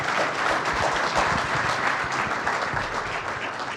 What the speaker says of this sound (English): Please, a round of applause for the two gentlemen.